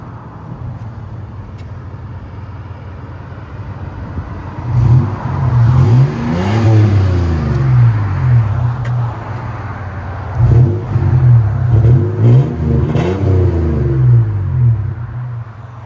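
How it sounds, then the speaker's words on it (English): A third-generation Toyota 4Runner with a 3.4L V6 and a Flowmaster 40 Series exhaust idles with a deep, steady exhaust tone, then revs up twice in strong bursts that climb and drop back. "4Runner with a Flowmaster 40 series."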